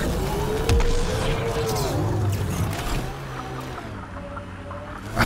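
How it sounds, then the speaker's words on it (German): Suction machines in Mass Effect Andromeda hum and drone with low, wavering mechanical tones and pitch sweeps, steady and close, with a vehicle rumbling underneath. "Ach, das sind die komischen Saugoperationen hier"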